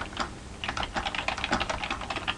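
Steady close typing on a computer keyboard, a quick run of light key clicks entering text for a Python program, with no talking.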